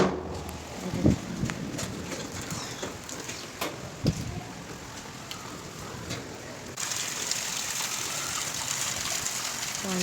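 Sudden heavy storm rain on a street, with water gushing along the lane; a steady, broad rush of rain and flowing water heard outdoors, with a few faint knocks and bird calls under it and no talking.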